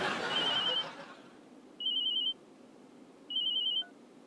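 Telephone ringing in a Hindi TV comedy, sounding as three separate electronic ring bursts of about half a second each, evenly spaced and fairly loud. A muffled background voice trails off during the first ring.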